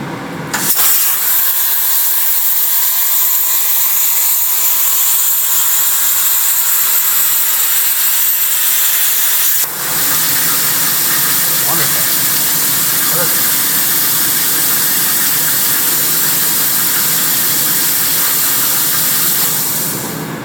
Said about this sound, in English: I'm going to use the straight cut feature on fire control and see if I can cut it off.